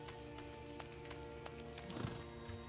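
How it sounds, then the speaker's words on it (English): Horses in the horror video game Amnesia Rebirth clip-clop in a steady even rhythm, with a brief whinny near the end, over a constant droning hum. "the horses are really well done too"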